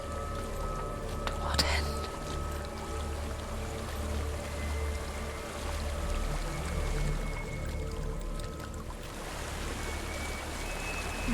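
A rushing waterfall pours continuously in Hellblade: Senua's Sacrifice, a dense, moderately loud roar with whispering voices and a sharp knock early on.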